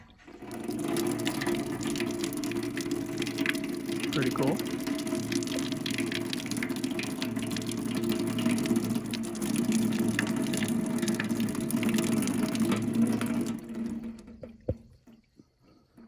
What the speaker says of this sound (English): It even has running water.